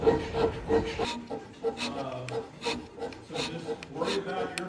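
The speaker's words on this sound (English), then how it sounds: "I was also lifting the scraper way too much between strokes" Hand scraping strokes on wood during a hand scraping class, a series of short rasping rubs in an uneven rhythm, fairly close and moderately loud, with faint background noise between strokes.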